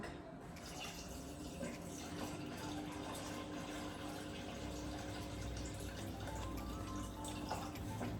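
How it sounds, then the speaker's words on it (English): Water runs steadily from a tap into a measuring pot being filled to the 2 litre mark for spicy tomato and red lentil soup, a continuous close splashing rush throughout. "just put some water in here so it's full up to the 2 litre mark"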